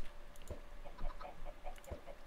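Chickens in the video game Minecraft cluck in short, soft bursts, a few scattered calls over a low ambient game background with no talking.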